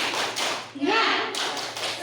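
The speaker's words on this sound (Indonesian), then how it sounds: "Ayo coba tepuk semangat." Seminar participants perform the tepuk semangat spirit clap, a quick series of taps and claps mixed with a shouted voice, brief and close.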